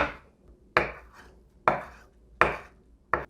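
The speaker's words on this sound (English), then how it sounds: "Make sure that the zest is chopped up nice and fine." A knife chops orange zest on a cutting board with four sharp, distinct knocks at an even, unhurried pace, close and clear, with no talk.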